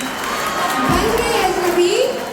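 A crowd at a school farewell party in Mainpuri cheers and shouts, with children's voices and some clapping mixed in, while a voice sings a melodic line over the noise.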